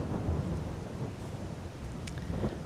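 Rain and thunder in the video game Farming Simulator 22: a steady wash of rainfall with deep rolling thunder rumbling underneath, continuous and fairly close, with no voices.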